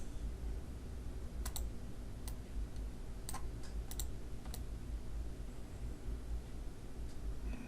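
Computer keyboard keys clicking in a few quick, sparse taps over a steady hiss, close and fairly faint.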